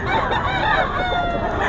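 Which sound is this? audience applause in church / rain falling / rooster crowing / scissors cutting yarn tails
rooster crowing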